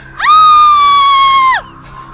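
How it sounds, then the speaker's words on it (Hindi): A woman's long, sustained scream in a Hindi animated horror story, loud and piercing, rising sharply, holding steady for over a second, then cutting off, with faint background after. "कविता के मुंह से चीख निकल गई।"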